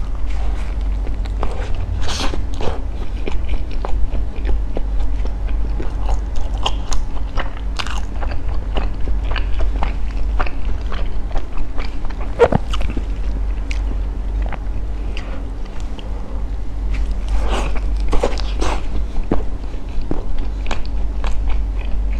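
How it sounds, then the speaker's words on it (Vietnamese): Someone bites and chews a tough, chewy hot dog sausage in bread, with repeated close, crisp bites and crunches and steady chewing throughout, under a constant low hum, no talking. "Cái xúc xích nó dai mọi người, cắn không đứt"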